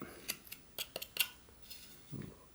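A knife whittling a small stop cut and notch into a wooden wizard plant stake, giving a handful of faint, sharp clicking cuts spaced irregularly, close and quiet in a still room.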